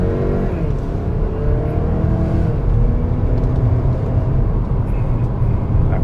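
A 2022 Kia Sportage SX in sports mode accelerates, its engine note rising in a steady, loud drone heard from inside the cabin, with rumbling road and engine noise throughout and no talk.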